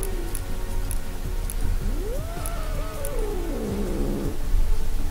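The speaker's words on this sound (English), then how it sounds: "this cat growls, can you stop?" A cat growls in a low, drawn-out rising and falling moan, with faint ticking clicks from Fortnite Chapter 3 gameplay in the background and a steady noisy bed underneath.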